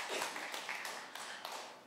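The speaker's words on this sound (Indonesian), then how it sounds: "Beri tepuk tangan buat Tuhan Yesus." A church congregation claps during a Sunday worship service, a dense, steady patter of many hands lasting a couple of seconds at moderate distance, with no talking over it.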